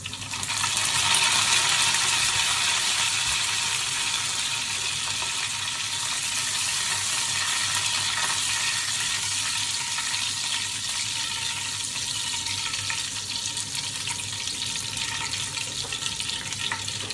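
Curry leaves dropped into hot oil for an Indian bahji curry crackle and sizzle steadily, a dense bright frying hiss that holds close and loud for the whole stretch with no voices.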